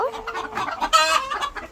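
Laying hens clucking close by in a backyard coop, a quick run of short, choppy clucks with one louder squawk in the middle.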